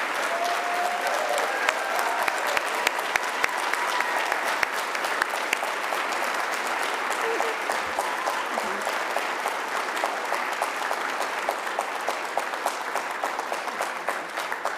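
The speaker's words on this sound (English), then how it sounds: "If you will please clap for them, because they've done some amazing things." Audience applause for honorees at a business meeting: sustained, even clapping from a roomful of people that holds steady for about fifteen seconds, loud and continuous with no talk on top.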